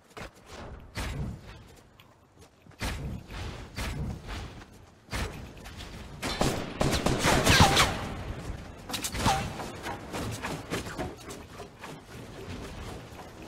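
Scattered gunfire in a Fortnite battle, with sharp cracks and thuds coming at irregular intervals at moderate distance, building into a denser cluster midway through.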